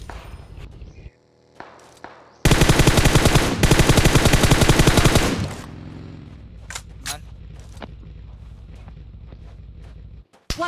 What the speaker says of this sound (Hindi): राइट से फिर गोली चल रही होती है